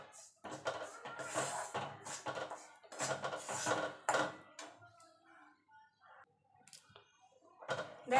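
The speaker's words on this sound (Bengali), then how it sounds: "ময়দাটা দিয়ে মিনিট খানেক নাড়াচাড়া করে নিয়েছি" Semolina and flour stirred in a pan over a low gas flame, with intermittent scraping and clinking of a utensil against metal, heard close and fairly quiet in bursts with pauses.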